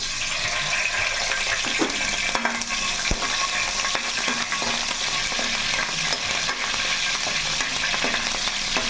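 Green chillies fry in a hot pan with a steady, loud sizzle and crackle that runs throughout, broken by a few sharp pops and the scrape of stirring.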